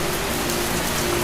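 Steady, dense rain hisses throughout a storm as a loud, even wash of noise with no breaks and no voices.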